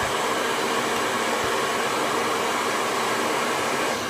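A hair dryer blows steadily while hair is being blow-dried. It gives a loud, continuous whooshing hum that holds at an even level throughout.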